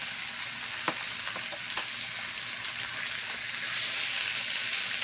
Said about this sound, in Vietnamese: Cái này là áp chảo.